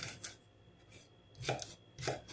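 Garlic is chopped finely on a board, with a few sharp knife knocks spaced apart, close but soft, and no talk.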